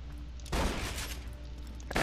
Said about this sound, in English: the shotgun I'm using right now